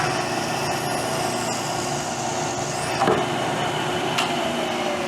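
Machine shop lathe running a reamer at 900 RPM while making muffler end caps for a Triumph Tiger Cub, a steady close mechanical whir with faint scraping and a couple of brief clicks.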